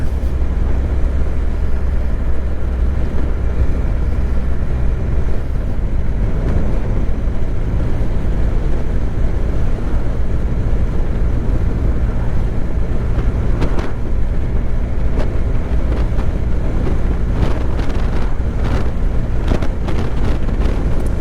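A Triumph Rocket 3 GT motorcycle engine drones steadily while riding, a continuous low rumble mixed with wind rush, loud and close throughout without pauses.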